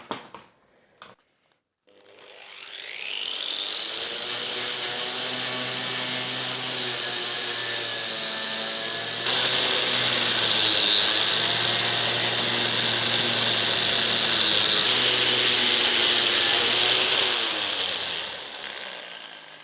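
A power-tool wire brush grinds against the cut metal body of a Citroën 2CV, a steady loud whirring abrasion after a couple of short clicks, shifting pitch midway and winding down at the end.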